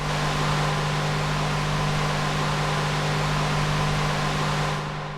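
Synthesizer noise source in Ableton Live turned up, a steady broadband white-noise hiss with a faint low hum underneath, constant for several seconds before trailing off slightly at the end.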